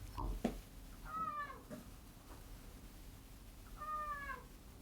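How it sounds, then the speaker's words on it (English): A cat meows for attention: two drawn-out, rising-and-falling meows a few seconds apart, faint and somewhat distant over low room noise, with a small click or thud before the first. "Srajan, your cat is calling for your attention, I believe."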